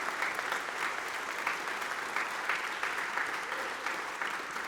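Sustained, even applause from a concert audience at a high school spring concert, thanking parent volunteers: dense, continuous clapping at moderate loudness with no voices standing out.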